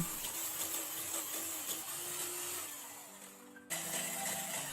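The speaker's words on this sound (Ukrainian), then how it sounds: "і починаємо взбивати блендером" A blender whips egg whites with sugar and citric acid, whirring steadily at close range for several seconds, cutting out briefly, then starting again at full speed.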